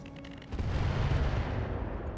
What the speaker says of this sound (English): Only one of those missiles hitting.